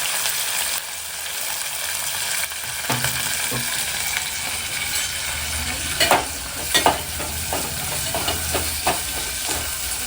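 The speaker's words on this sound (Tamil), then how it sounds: "இதெல்லாம் வதங்கட்டும்" Onion, garlic, curry leaves and mustard seeds sauté in a hot pan, a steady broad sizzle with scattered crackles and a few sharper scraping knocks of a spoon in the latter half, no voices.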